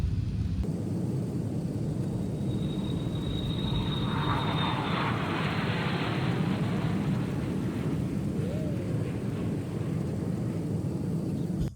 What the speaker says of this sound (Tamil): இங்கே வந்து அப்படியே செம்மையாக ஷேக் ஆகுது ஃப்ளைட்டே.